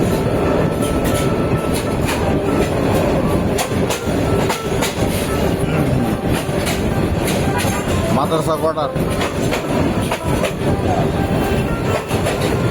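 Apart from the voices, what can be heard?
train running and turning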